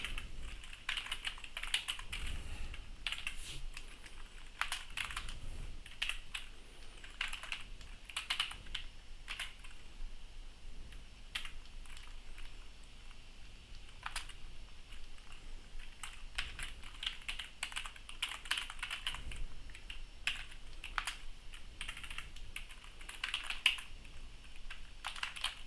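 Steady typing on a computer keyboard while composing a Discord post, with uneven bursts of close, crisp key clicks running for about twenty-five seconds with no voices.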